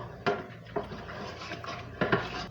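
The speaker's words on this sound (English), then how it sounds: "Let me stir that all together." A spoon stirring milk with citric acid and salt in a pot, three distinct metallic clinks and scrapes against the pot sides over a quiet background, no voices.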